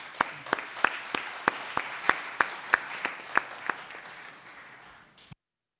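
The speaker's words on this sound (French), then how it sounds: "Je propose d'applaudir le panel." A small audience at an evaluation conference gives the discussion panel a short round of applause: sparse, fairly faint claps in a steady rhythm of about a dozen distinct hits, fading before stopping abruptly.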